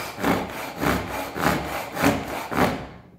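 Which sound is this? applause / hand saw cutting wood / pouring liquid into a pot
hand saw cutting wood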